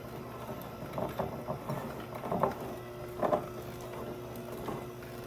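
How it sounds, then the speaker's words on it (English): An electric mixer works a sticky Finnish blueberry pie dough, a steady mechanical whir with a few louder, uneven surges as the beaters catch the dough, heard alone. "I'm going to try mixing this a little bit with my mixer."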